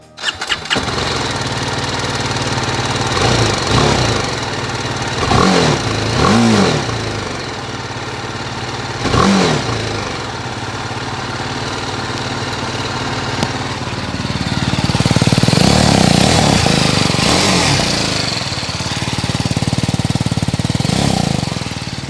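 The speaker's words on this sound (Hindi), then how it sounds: "let us know if you like the exhaust note of this motorcycle" A BS6 BMW G 310 GS motorcycle engine fires up and idles loudly with a throbbing exhaust, blipped a few times into short revs, then settles into a steady burbling idle.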